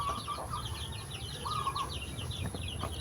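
Chickens at feeding time give soft, scattered clucks and short calls at moderate distance, over a steady background hum, with no talking.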